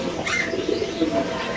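A pigeon at a home pigeon farm coos nearby in soft, low, rolling calls that carry on for over a second, with no talk over them.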